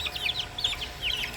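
Month-old native chicks give rapid, high chirping clucks up close, a quick string of short calls over a soft background hum.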